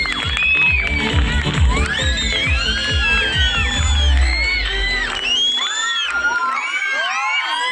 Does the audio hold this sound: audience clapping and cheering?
yes